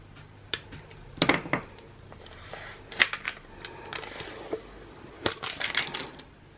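Dried vinyl peeling off an acrylic blank, heard as sharp crackling snaps and ticks in scattered clusters, close up against a quiet background.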